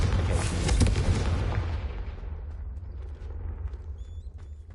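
A Confringo blasting spell explodes in Hogwarts Legacy: one loud, close boom that fades into a long rumbling tail, with faint chirping game ambience at the end.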